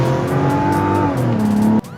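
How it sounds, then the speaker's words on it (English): A Mazda CX-90 with the 3.3-litre inline-six pulls hard from a standstill to 60 in sport mode, its engine note rising steadily through the gears, loud and close, then cutting off abruptly near the end. "let's throw it in the sport mode and let's do a quick 0 to 60 run"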